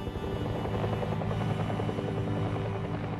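A Bell UH-1 Huey helicopter flies close by, its rotor thudding in a fast, steady rhythmic chop over a loud continuous turbine drone, alone and unbroken.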